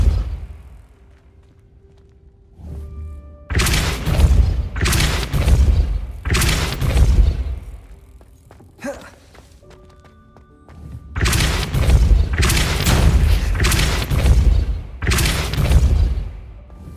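Repeated Depulso force spell casts in the video game Hogwarts Legacy: loud, booming whooshes in two clusters of three, each burst lasting about a second with short pauses between them.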